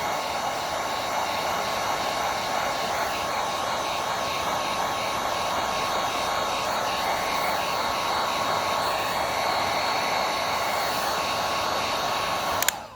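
A heat tool blows steadily and loudly at close range, warming an epoxy-coated tumbler to soften vinyl for removal, a constant airy roar that runs unbroken for the whole stretch and cuts off abruptly at the end.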